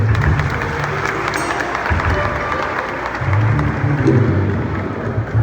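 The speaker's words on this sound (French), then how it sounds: "aider à apprécier la présence de Dieu avec un chaud d'applaudissements" An audience at a Baptist church service in Ouanaminthe gives warm applause, a steady dense wash of clapping that continues for several seconds, loud and close, with crowd murmur underneath.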